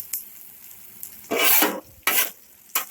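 Onions fry in oil on a Blackstone griddle as a spatula scrapes them across the hot flat top in three long rasping strokes, between quieter stretches of low sizzle.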